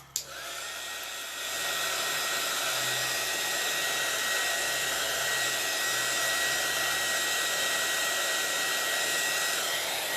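Heat tool blowing steadily on chalk paste over a paper mache Easter egg, a loud, constant whirring hiss that runs unbroken for about ten seconds, up close with no talk.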